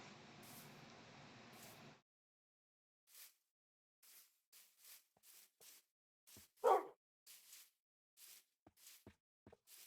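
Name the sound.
Minecraft dog (wolf) barking, from a video game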